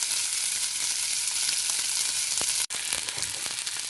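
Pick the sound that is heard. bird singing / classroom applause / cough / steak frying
steak frying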